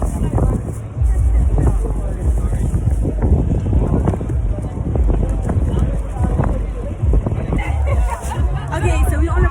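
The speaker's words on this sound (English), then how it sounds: "I don't know if it's so windy, you guys can hear." Strong wind buffets the microphone on a boat at a party, a continuous loud rumbling roar with a crowd babbling and chattering underneath throughout.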